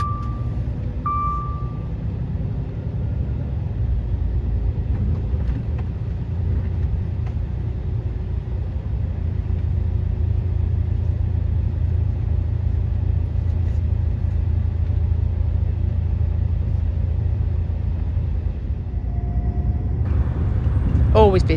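Busy Barcelona traffic, with steady road rumble and engine noise heard from inside a moving vehicle heading out toward France, plus brief horn-like tones and hiss near the start and end.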